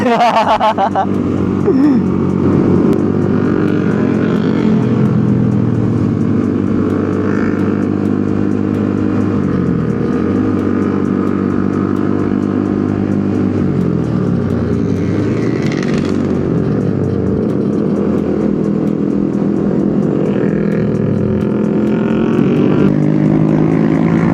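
Motorcycles ride together on a road during a Sunday morning group ride, with a Kawasaki ZX leading. The engines drone loudly and continuously, and wind rushes across the microphone. The pitch rises and falls as the riders shift.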